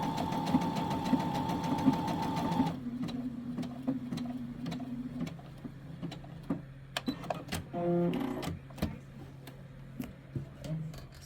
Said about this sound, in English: The one that it's stitching currently is the one that is the light color of blue.